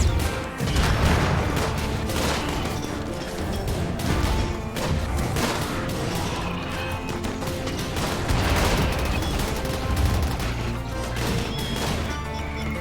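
Dense, continuous combat noise from a raid in the RimWorld video game, with incendiary launcher fire amid overlapping crashes, booms and bursts of gunfire over a loud, busy mix.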